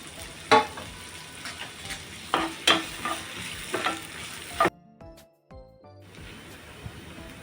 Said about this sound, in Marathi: तेल गरम झालेलं आहे आता आपण कांदा टाकू बारीक चिरून घेतलेला आणि तो पण तेलामध्ये भाजून घेऊ